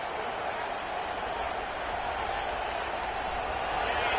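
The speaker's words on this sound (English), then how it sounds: "listen to this crowd noise. This stadium is vibrating." Loud, steady roar of a stadium crowd at a college football game against OU, a dense wash of cheering and shouting that swells slightly toward the end, with no single voice standing out.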